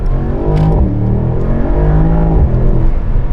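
A 2023 Mercedes SL 63 AMG 4Matic+ with a 4.0 V8 accelerates into traffic, the engine note rising close and loud through gear changes with a deep, throaty growl.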